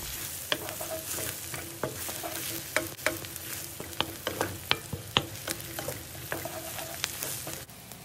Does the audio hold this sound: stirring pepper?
yes